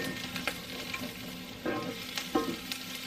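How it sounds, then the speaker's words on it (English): Food kept moving with a utensil in a frying pan, a steady sizzle broken by several scraping stir strokes at irregular moments. "I keep it moving in the pan."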